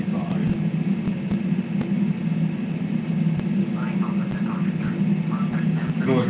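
Steady jet engine whine and low rumble from a Bombardier Learjet 45 in the Flight Simulator X game, continuous and fairly loud throughout, with someone talking over it.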